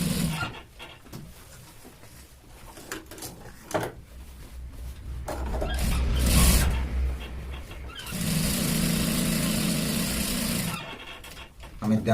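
A sewing machine stitching the side seam of a shirt gives a steady mechanical whir that runs in stretches and stops between them, while a voice talks over and around it at close range.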